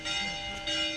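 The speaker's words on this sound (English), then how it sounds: "And you can hear the bells." Church bells ring in an Italian town, a sustained, resonant ringing tone held steadily for about a second at moderate volume with no talk.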